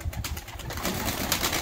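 Ala pigeons, a Turkish breed, are flown at a seaside spot, with soft cooing and fluttering set against a rushing, breezy outdoor background, moderately close.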